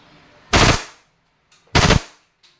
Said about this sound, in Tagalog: Okay, so kapag full automatic po, baba nyo lang yung switch. Rapid firing na po ito.